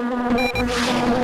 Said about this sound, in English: Why is every house in this town owned by bees?